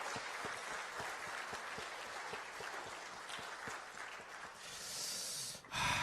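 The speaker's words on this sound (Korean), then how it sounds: "박수로 우리 끝까지 격려해 주셨으면 좋겠습니다." A church congregation at an evening service claps together in a sustained, fairly faint round of applause with a steady patter, ending in a louder burst of rustle near the finish.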